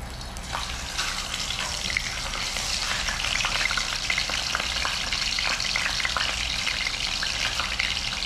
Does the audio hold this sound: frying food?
yes